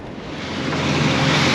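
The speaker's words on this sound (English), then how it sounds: "You can just see the waves breaking on it." Ocean waves breaking over a reef off Beacon Island in the Seychelles, heard from a boat as a steady, swelling wash of surf mixed with wind rush.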